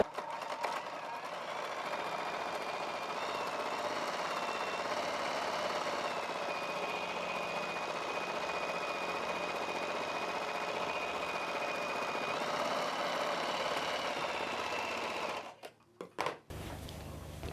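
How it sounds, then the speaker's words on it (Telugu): A sewing machine runs steadily for about fifteen seconds, double stitching the seams of a maxi dress with a close, even motor whir, then stops with a few short clunks. "డబుల్ స్టిచ్ కోసం ఇంకొక కుట్టు వేసుకోవాలి."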